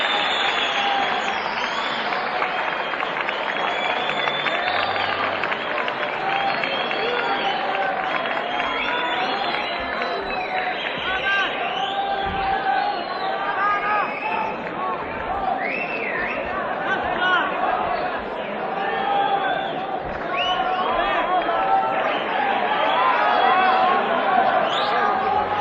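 A concert audience at a 1960 performance in Cinema Rivoli applauds and cheers in a dense, sustained roar of clapping and crowd noise that stays loud and steady throughout.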